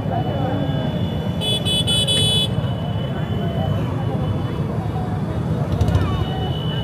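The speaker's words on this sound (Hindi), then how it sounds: "बहुत ज्यादा ट्रैफिक है भाई" Dense roadway traffic rumbles continuously during the Kanwar Yatra pilgrimage, with a burst of repeated vehicle horn toots early on and another short honk later, people talking amid the crowd noise.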